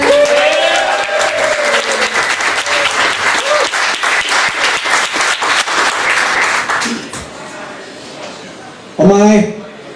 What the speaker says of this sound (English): cheer for the winner. The loudest cheer keeps him here.